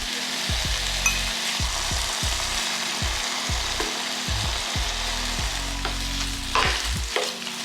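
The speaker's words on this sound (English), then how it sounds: "Let it sear on one side, then we'll flip it. I am working still on high heat." Chicken fajitas searing in a hot pan on high heat, a continuous close sizzle and hiss with repeated scraping stir strokes and utensil knocks, no voices.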